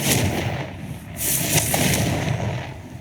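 A Confringo spell cast in Hogwarts Legacy lands as a loud, explosive burst with a crackling blast, then a second bright impact near the middle, over a dense rumbling game soundscape. No one speaks.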